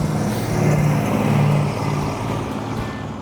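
A car engine runs steadily close by with a low droning rumble, swelling slightly in the middle before easing back.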